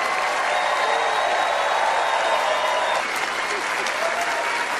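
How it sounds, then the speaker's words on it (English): Loud, sustained applause from a large awards-show audience, dense and unbroken, with a faint crowd murmur mixed in. "Please join me in giving Meryl Streep a totally undeserved round of applause"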